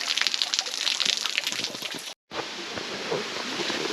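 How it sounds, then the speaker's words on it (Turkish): Water streams down a mountainside beside the Caldeirão Verde PR9 hiking trail, a steady close rushing and trickling broken by a split-second dropout, with no voices. "Dağların kenarlarından sular akıyor."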